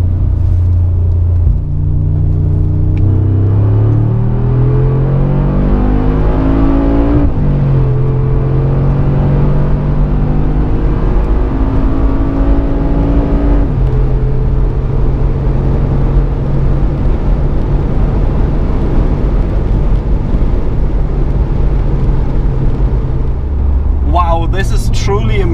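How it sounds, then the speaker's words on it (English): A 2019 Mercedes-AMG G63 with 585 hp accelerates hard from 100 to 200 km/h, its engine climbing through rising gear sweeps with shift drops, loud and continuous, while heavy road and wind rumble build underneath. "Let's see how fast this car goes from 100 to 200."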